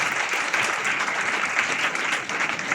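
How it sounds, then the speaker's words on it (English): Steady, sustained applause from an audience at a university valedictory and award ceremony, many hands clapping evenly throughout with no voices over it. "Please give a big applause to all of them."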